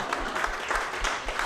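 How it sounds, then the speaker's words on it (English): Audience applause at a stand-up comedy show, a short burst of steady clapping from a crowd, fairly soft and even throughout. "Now stop clapping, because it's not the largest."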